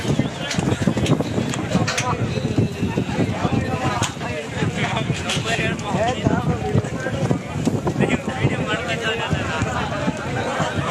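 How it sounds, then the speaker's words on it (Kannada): A violent windstorm at the JKBMS ground in Tumkur that blew a tent house apart: rough, gusting wind rush buffets the microphone throughout, with a person talking over it the whole time. "ಅಷ್ಟು ಜೋರಾಗಿ ಬಿರುಗಾಳಿ ಬೀಸಿದೆ"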